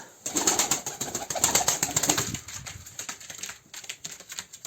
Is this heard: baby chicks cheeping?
no